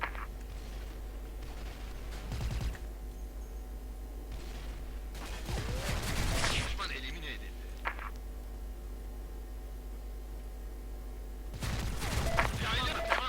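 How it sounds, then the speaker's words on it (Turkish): Grenade explosion and gunfire in the video game Skill Force 2, with a few separate bursts of blasts and shots over a constant low hum, and someone talking in between. "Sana bomba atayım mı şuraya? Bomba atıldı."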